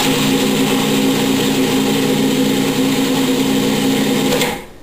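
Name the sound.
food processor chopping cilantro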